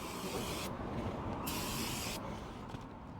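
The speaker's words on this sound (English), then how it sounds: "we'll take some brake clean, spray it off," Brake cleaner is sprayed onto a new brake rotor in loud, close, continuous hissing bursts, with a short break between two sprays.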